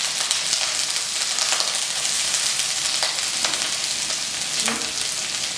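Onions frying in a pan for chilli baby corn, a steady dense sizzle throughout with a few faint stirring scrapes, close and continuous with no talking.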